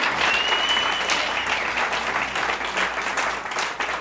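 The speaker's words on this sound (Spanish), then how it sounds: "Denle un aplauso fuerte al Señor." A church congregation applauds during a Pentecostal sermon, a dense sustained wash of clapping from many hands that fills the room steadily, with a faint voice rising briefly above it.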